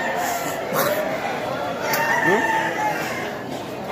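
A rooster crows once in the middle distance over a steady background of crowd chatter and ambient noise at a cockfighting venue.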